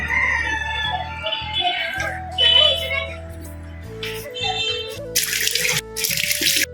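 Tap water runs while a face is washed after brushing teeth, a steady splashing stream under talking and other household sounds, with a bright burst of flow near the end.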